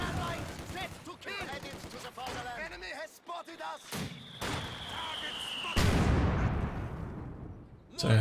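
Mortar shelling in the real-time strategy game Company of Heroes 2 comes as a chaotic run of booming impacts and crackling blasts, with a heavy, louder burst toward the end.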